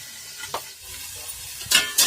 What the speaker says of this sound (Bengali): ঢাকনাটা আমি খুলে দিচ্ছি, নাড়াচাড়া করে দেবো